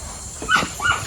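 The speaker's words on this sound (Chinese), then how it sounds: "这边呢都是小狗" Puppies at a stray dog rescue shelter in Wuhan, China, whimpering and yipping in two short, high, close cries.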